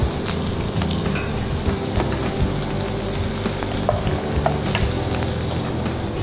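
Steady loud sizzling of shrimp in sauce in a hot pan with scraping and clinks of a utensil stirring, continuous throughout, no talk.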